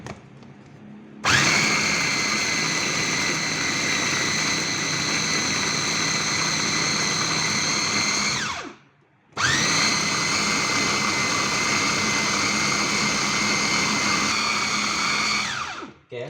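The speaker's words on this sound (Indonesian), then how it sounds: "Oke, kita blend untuk dagingnya terlebih dahulu sampai halus." An electric blender grinds chicken meat for meatballs, a loud steady high-pitched whir that runs alone, cuts out briefly with a dip, then starts again at full speed.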